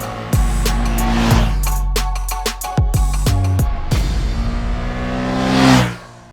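A Ducati Panigale V2 S motorcycle accelerating hard, its loud engine rising in pitch through several quick gear changes with brief drops between shifts, then swelling again before fading away.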